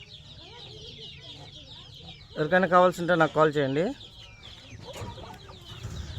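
Young pearl rooster cockerels with long tail feathers give a short burst of loud, rhythmic clucking near the middle, while someone talks before and after it.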